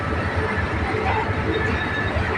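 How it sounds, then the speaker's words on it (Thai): A BTS Silom Line skytrain in Bangkok runs past with a loud, steady rumble and rail noise, and someone talks over it. "รถไฟฟ้า BTS สายสีลมด้วยครับ"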